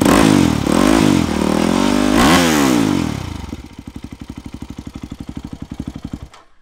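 A loud, heavily modified Yamaha WR250R motorcycle engine with its exhaust baffle tip removed revs hard a few times, then settles into a fast, choppy idle pulse before cutting off; raw and close.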